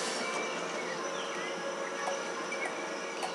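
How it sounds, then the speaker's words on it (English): A tram rolls past in The Incredibles game, a steady, broad rumble of rails and wheels with faint squeals and clicks that hold at an even loudness throughout. "I'm gonna wait for the tram."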